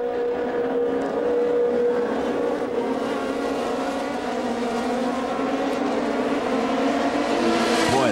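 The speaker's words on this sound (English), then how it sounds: "Cars arrive at this corner at tremendous speed." Formula 3000 race cars at a 2002 race in Italy howling past at speed, a steady high-pitched engine drone from several cars that stays loud throughout, with a sharp pitch drop as one passes at the end.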